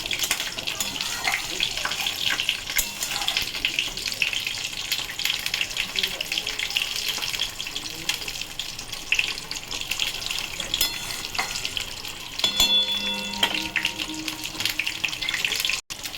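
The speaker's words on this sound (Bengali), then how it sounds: "দেখুন বন্ধুরা ফুটছে।" Salted water boils hard over a high gas flame in a pot, cooking for a bata fish dish: a steady, dense bubbling hiss runs throughout, with a few utensil clinks near the end.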